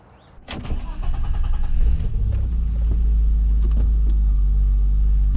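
A 1988 BMW Alpina B3 2.7 E30 starts and pulls away, a brief whirring clatter giving way to a deep, steady engine rumble that dominates the low end, heard from inside the car and holding level throughout.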